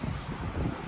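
Wind buffets the microphone beside the sea on a cloudy, breezy day in Florida, a brief, constant low rumble with soft surf-like wash.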